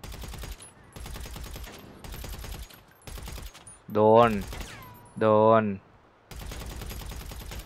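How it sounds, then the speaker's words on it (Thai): Rapid bursts of gunfire from a cap gun aimed at birds in the video game GTA V come in several short volleys, with someone speaking twice between them. "นี่ปืนแก๊ปยิงนก"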